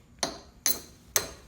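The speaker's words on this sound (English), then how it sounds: "We're gonna knock it with the hammer." Three sharp metallic hammer strikes knock a bolt through a hole during a garage folding table build. The blows are evenly spaced, close and crisp, and each rings out briefly.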